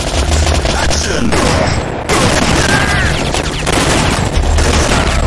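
Video game gunfire from Time Crisis rattles in dense, loud bursts, rapid shots overlapping almost without pause, with brief shifts in intensity between volleys.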